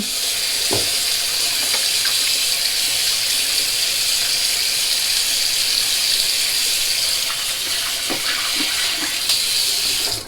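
Tap water runs steadily while a Rockwell 6C safety razor is rinsed, a continuous broad hiss with a few faint clinks and splashes, close and alone with no talking.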